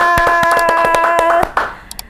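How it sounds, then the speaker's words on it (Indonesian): Rapid, steady hand claps ring out close and crisp over a sustained musical tone, the clapping stopping abruptly with a few last scattered taps. "Tepuk tangan."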